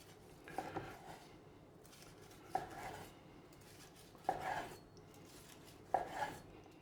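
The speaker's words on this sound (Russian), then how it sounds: "Теперь я беру утку и режу ее по диагонали." A knife slices cooked sous-vide duck breast diagonally on a board, giving four quiet, separate cutting strokes spaced a second or two apart with little else around.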